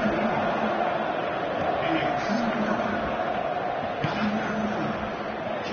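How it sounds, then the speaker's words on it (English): A football stadium crowd in the video game PES 2019 keeps up a continuous murmuring roar in the background while a commentator talks over it throughout. "you can hear how the crowd are reacting to this too"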